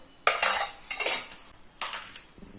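A spoon scrapes and clatters against a pan three times in short bursts while potato vada filling is stirred and sautéed, with near, fairly loud metallic strokes separated by pauses and no talking.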